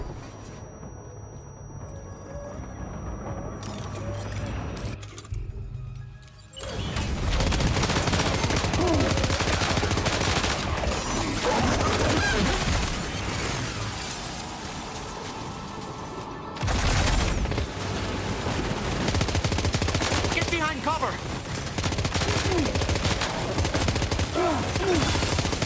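Grenade launcher and heavy weapons fire against ghost mechs in Death Stranding 2, a dense, loud barrage of shots and blasts that carries on almost without pause after a quieter opening.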